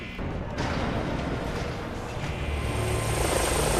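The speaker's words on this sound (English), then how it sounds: "Drone." A drone in the Batman: Arkham Origins video game flies overhead with a loud, steady whirring rotor drone that swells slightly and holds throughout, with no voices over it.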